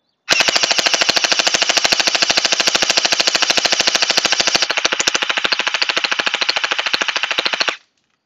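Anstoy AKM47 gel blaster, green, firing full-auto in one long unbroken burst of rapid, evenly spaced sharp clicks lasting about seven seconds, loud and close with no talking.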